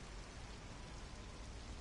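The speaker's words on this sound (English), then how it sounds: "This rain is not letting up." Steady rain falling in the MLB The Show 26 baseball video game, a dense even hiss of downpour without pauses, no voices.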